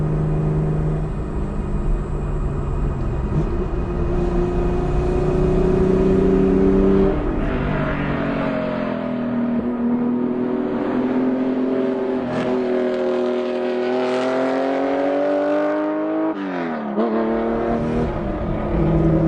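A hot-rodded Porsche 964 911 engine accelerates hard along the Angeles Crest Highway, loud and close, revs climbing and dropping through several gear changes with a sustained throaty roar.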